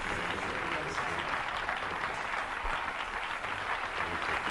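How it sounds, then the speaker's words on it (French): A theater audience applauds a young girl's stage dance performance with sustained, dense clapping that holds steady throughout, with faint voices mixed into the crowd noise. "Bah tiens, écoute, on l'acclame."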